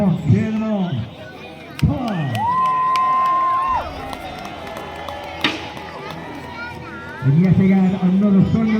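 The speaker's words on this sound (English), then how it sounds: "Come on, cheer them on." Crowd at a live jousting tournament cheering and shouting loudly in bursts, with a commentator's amplified voice speaking over and between the cheers.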